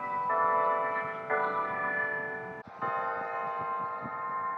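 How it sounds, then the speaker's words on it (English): Church bells ring out in sustained, overlapping tolls, each strike blooming into a long resonant hum, heard at a moderate distance with no talk over them. "Sorry, interrupted by church bells, though they're pretty nice."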